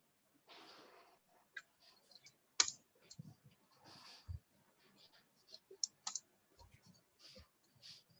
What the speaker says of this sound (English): I'm sharpening the pencil.